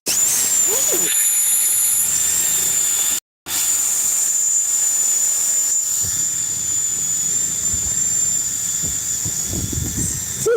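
A Maliki brushless electric motor on an RC boat at a lake runs with a steady high-pitched whine and hiss for about ten seconds, cutting out briefly once, with faint outdoor background noise.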